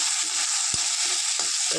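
Black pepper and curry leaves dry-roasting in a pan, with a steady bright sizzle and crackle throughout and a few short scraping stirs and knocks of the spoon against the pan.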